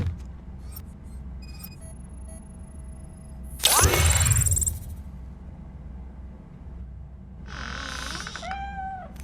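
A cat meows in the Robocop Rogue City video game, with a couple of drawn-out mewing calls near the end after a loud burst of other game noise, heard alone without talk.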